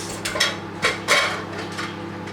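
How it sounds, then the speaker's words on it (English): A pressure cooker lid is opened while sambhar cooks, giving a few sharp metallic clanks and scrapes spread over a couple of seconds, close and fairly loud with no voices. "So I'm going to open the pressure cooker and let's see."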